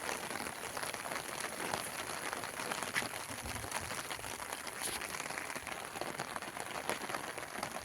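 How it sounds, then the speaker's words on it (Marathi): Steady rain falls around a farmhouse after more than a week of continuous downpour, a dense even hiss of drops on leaves and surfaces lasting throughout with no voices. "आताही पाऊस चालूच आहे."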